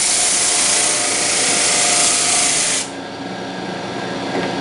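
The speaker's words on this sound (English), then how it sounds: "I'm going to take a little heavier cut with the coarse grit. You can hear the difference there." A Flatmaster drum sander takes a heavy pass on wood with coarse 80 grit, giving a loud, steady abrasive roar that drops suddenly to a quieter hum as the board clears the drum.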